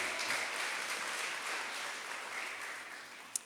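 Church congregation applauding at a Spanish-language worship service, a steady wash of clapping from many hands held at an even level throughout, with one sharp louder clap near the end.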